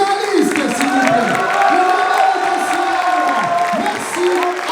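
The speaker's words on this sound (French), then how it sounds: "j'aimerais aussi que vous applaudissiez tous nos finalistes, s'il vous plaît" An esports final crowd applauds and cheers for the TFT finalists, a loud mass of clapping mixed with shouts and whistles, while amplified speech carries over the top.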